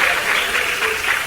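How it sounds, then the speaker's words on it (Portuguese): A church congregation applauding during a worship service, a brief burst of dense, steady clapping from many people, fairly loud and with no talk over it. "Vamos aplaudir bem forte."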